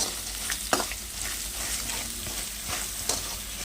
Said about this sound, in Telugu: కొత్తిమీర వేసి ఫ్రై చేస్తున్నా